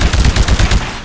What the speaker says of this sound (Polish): Ale strzelam ambitnie w niego.